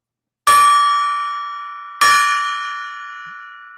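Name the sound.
golden gong being rung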